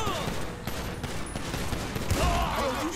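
Dense, continuous gunfire from GTA V, rapid overlapping shots and bursts mixed with game sounds, loud and sustained with voices partly underneath.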